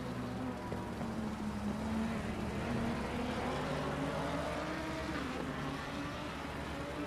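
A Lamborghini GT3 race car drafting in a slipstream during a Barcelona endurance race in a sim racing game, its engine a steady droning hum with slowly shifting pitch, fairly faint and continuous, no talk.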